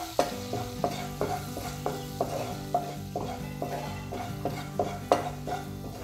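Makhani gravy with crushed kasuri methi being stir-fried in a pan, a low sizzle broken by regular spoon scrapes and knocks against the pot, about two strokes per second, close and clear.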